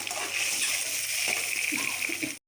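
Hot water poured into an egg gravy in a pan on the stove gives a steady hissing sizzle with soft splashing and bubbling, fairly close, lasting a couple of seconds before stopping.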